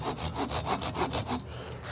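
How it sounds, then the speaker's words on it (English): Hand saw cutting wood for a prop sword bevel, with quick, even back-and-forth rasping strokes close up that ease off near the end. "Just gonna be carefully cutting up to the top line"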